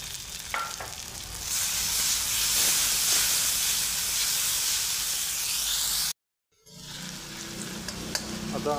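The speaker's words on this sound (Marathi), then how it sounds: "टोमॅटो देखील याच्यासोबत परतवून घ्यायचा आहे." Tomatoes sautéing with onions in a pan while making paneer bhurji: a steady loud sizzle and hiss of frying for several seconds, breaking off briefly before softer sizzling resumes.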